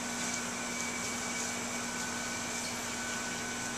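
A vacuum pump draws down a bag over carbon fiber car body panels, giving a steady, even mechanical drone with a constant low hum that holds unchanged throughout.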